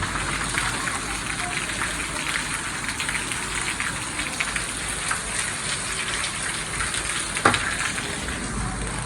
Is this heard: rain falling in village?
yes